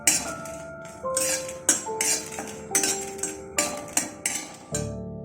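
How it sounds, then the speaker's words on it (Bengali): Two dry red chillies are dry roasted in a pan while a utensil stirs them, producing sharp metallic clinks and taps against the pan in irregular bursts, each ringing briefly, close and fairly clear. "মশলাটা বানাবার জন্য আমি প্রথমে 2টো শুকনো লঙ্কা একটু ড্রাই রোস্ট করে নেব। জাস্ট কয়েক সেকেন্ড একটু নাড়াচাড়া করে নিতে হবে।"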